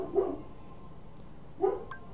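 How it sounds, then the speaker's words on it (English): A dog in the Kingdom Hearts video game gives two short, soft barks about a second and a half apart, heard faintly over quiet game background noise. "Bark, bark. Dog."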